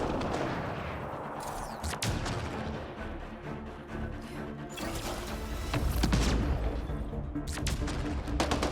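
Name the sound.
high-power sniper rifle gunfire in video game Mass Effect: Andromeda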